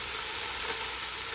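Shallots and green chili sauté in butter over medium heat while cooking coconut curry mussels, giving a steady, close sizzle and frying hiss that stays even throughout with no talking.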